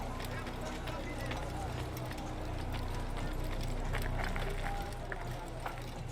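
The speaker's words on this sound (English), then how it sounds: "And my white horse" Hooves of a white horse in Assassin's Creed beat in a fast, steady galloping rhythm, running close and continuous under the game's ambient noise.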